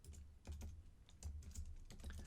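Quiet, steady typing on a computer keyboard while entering programming code, with brief bursts of keystrokes separated by short pauses, heard alone with no talk.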